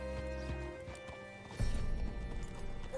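Horse hooves clip-clopping on the ground in Red Dead Redemption 2, with a steady close hoof rhythm over a low ambient game soundscape that grows louder partway through.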